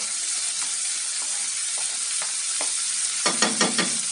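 Chopped onion goes into a frying pan of sizzling gravy, a constant loud hiss with scattered small crackles, then a short run of stirring scrapes near the end.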